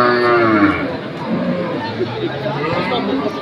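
Cattle moo loudly and close at Pasar Sapi Waginan, a livestock market in Pati, one long low call followed by further lowing, with faint crowd chatter in the background.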